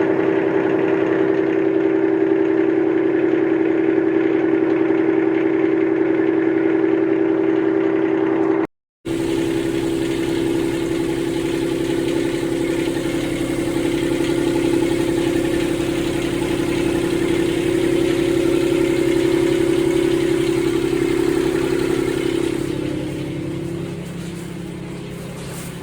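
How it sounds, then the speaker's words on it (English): A small inboard motor fitted to a 26-foot Cole trailer sailor idles steadily with a constant low hum, briefly cutting out once, then settling back to a smooth running drone that softens near the end. "so the engine's running now"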